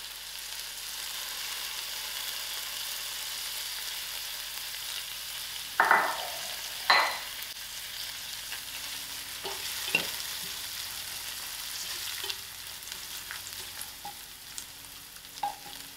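Curry leaves and thyme fry with browned onions in a pot for a pilchard and potato curry, a steady low sizzle broken by a few sharp crackles and stirring clinks, with no talking.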